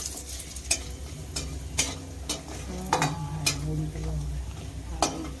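Sun-dried lentil bori dropped into hot oil as a tempering for spinach, giving a steady close sizzle with sharp irregular ticks and pops, plus a few clinks against the pan.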